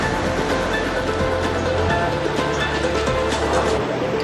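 Sea waves breaking below the Jubilee Cross at Pusan Point in Caraga, Davao Oriental, a steady broadband surf roar with low rumble throughout, no talk.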